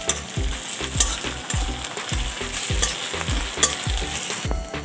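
Onion frying in a pan with ginger-garlic paste, stirred in a steady rhythm of regular scraping strokes over a continuous close sizzle, with no voices.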